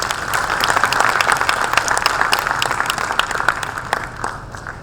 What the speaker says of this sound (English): can we have a round of applause on the book being released?